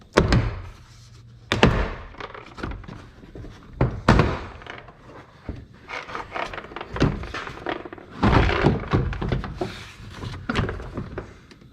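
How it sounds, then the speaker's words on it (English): A car door panel is pried off during autobody work. A series of loud plastic thunks, pops and knocks comes at irregular intervals, close by, with shuffling handling noise between them. "then just pop the whole door panel off"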